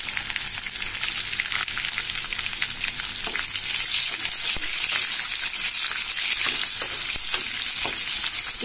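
Chopped onions sauté in a pan with dal for a drumstick leaves poriyal, giving a strong, even sizzle punctuated by frequent crackles and stirring scrapes, close and continuous.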